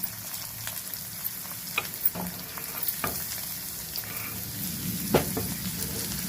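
Onion pieces and curry leaves frying in a pan for a home-style ridge gourd stir-fry, a steady crackling sizzle punctuated by occasional light clicks from stirring.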